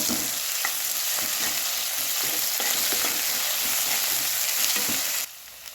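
Ginger garlic paste frying in a pan for pepper chicken, a steady close sizzle with small scraping stirs of a spoon throughout, ending abruptly after about five seconds.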